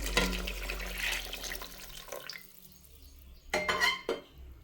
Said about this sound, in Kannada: ಹಾಗೆ ಪಕ್ಕದಲ್ಲಿ ಕೂಡ ನಾನು ಬಿಸಿನೀರು ಕಾಯಕ್ಕೆ ಇಟ್ಕೊಂಡಿದ್ದೆ. ಇವಾಗ ಅದನ್ನು ಇಲ್ಲಿಗೆ ಆ್ಯಡ್ ಮಾಡ್ತಾಯಿದ್ದೀನಿ.